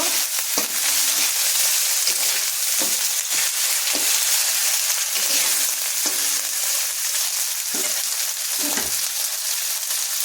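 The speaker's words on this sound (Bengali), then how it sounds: "চিনিটা দিয়ে আমি ভালো করে মশলার সঙ্গে ভালো করে মিশিয়ে নেব" Spice paste sizzles steadily in oil in a pan as sugar is stirred in for a cabbage ghonto, with continuous loud frying hiss and repeated scraping strokes of a spoon.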